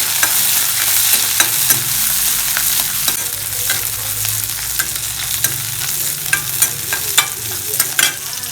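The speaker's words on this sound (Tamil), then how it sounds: "மூணு பச்சை மிளகாய் கட் பண்ணி வச்சுருக்கேன் அதை போட்டுக்கலாம் போட்டு நல்லா வதக்கிக்கலாம்" Chopped green chillies sauté in a hot pan for a South Indian coconut coriander chutney, giving a loud, steady sizzle with regular scraping stirs of a spoon and no voices.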